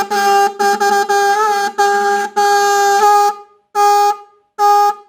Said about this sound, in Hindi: ऐसी जगह रखेंगे जहां बिल्कुल एक्सेप्टेड साउंड, अच्छी पिच हमें मिले और ये हॉर्न बजे